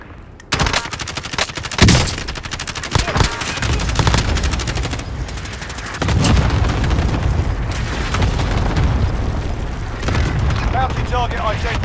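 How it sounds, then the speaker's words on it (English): A multiplayer shooter game plays a cluster strike, with rapid booming explosions and bursts of gunfire that rattle on continuously and loudly throughout, while game voice lines sound over the din. "Allied cluster strike inbound."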